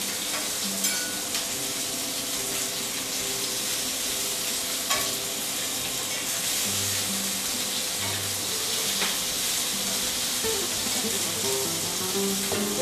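Artichokes sizzle in a pan alongside botifarra sausages, a steady close frying hiss with scattered crackles and a few utensil clicks, no voices.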